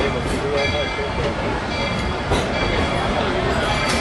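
Walt Disney World Railroad train at Main Street Station, a steady low rumble of rolling wheels and rail noise running continuously, with faint voices mixed in.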